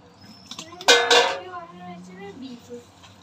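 Washed beef tipped into a metal cooking pot, giving a short burst of clattering and scraping metal-on-metal clinks, followed by softer faint rattles and low background sounds.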